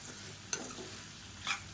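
Quiet sizzle of vegetables sautéing in a pan for sambar, a soft continuous fry broken by two brief sharper stirring scrapes.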